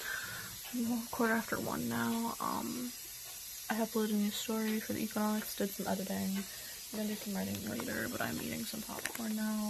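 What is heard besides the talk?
radiator hissing in the background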